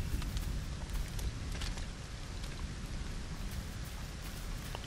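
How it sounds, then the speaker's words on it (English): Rain falls in the video game Lego Fortnite, a steady, soft hiss and patter of drops with a few sharper taps, continuous throughout and with no talk. "It's raining."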